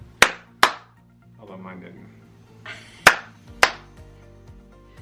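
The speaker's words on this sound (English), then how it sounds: "Your claps don't work. You really have to be like close to it." Hands clap to try to switch on a clap-activated light: two sharp, close claps, a pause with someone talking, then two more crisp claps in quick succession.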